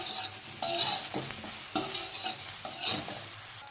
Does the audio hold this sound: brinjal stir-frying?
yes